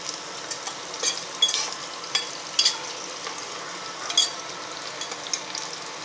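Chopped onions frying in hot oil for plain kuska biryani, a steady close sizzle with occasional louder crackles and pops throughout, no voices.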